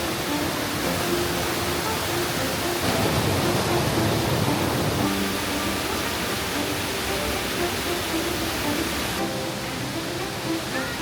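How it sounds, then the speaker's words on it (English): The Erin Ijesha Waterfall in Nigeria roars as a steady, dense rush of falling water, loud and constant throughout with no pauses. "we are greeted by the majestic Erin Ijesha Waterfall"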